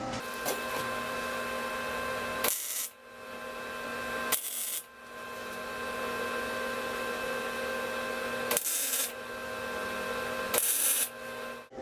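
A MIG welder tack welding a chop saw stand: three or four short bursts of harsh, crackling buzz, each lasting about half a second, set against a steady background hum, close and fairly loud, no talk.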